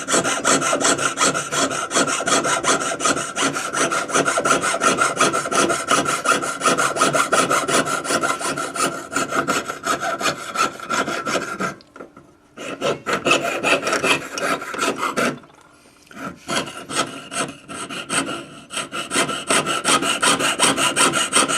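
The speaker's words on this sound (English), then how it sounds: "So I'm going to saw just to the outside of the line." A hand saw works through wood just outside a marked line with quick, rhythmic rasping strokes, close and steady, pausing briefly twice before resuming the same back-and-forth cutting.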